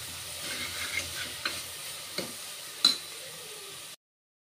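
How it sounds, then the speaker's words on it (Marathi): Stirring spiny gourd sabji in a pan after adding turmeric and homemade garam masala, with a soft sizzle underneath and a few light spoon scrapes and taps on the vessel, close and quiet, no talking. "हलवूया एक वेळ हळद आणि गरम मसाला"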